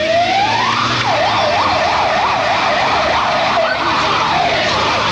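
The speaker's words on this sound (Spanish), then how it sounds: "Ustedes pueden ver la cantidad de ambulancias que han llegado hasta este lugar" Ambulance sirens wail and yelp continuously at the scene of the Cromañón nightclub fire disaster in Buenos Aires, loud and close, a rising wail shifting into rapid warbling cycles over steady street noise.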